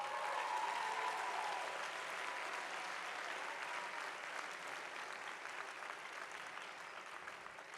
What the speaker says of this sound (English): I would like to recognize and applaud you for achieving the highest GPA at GAPP.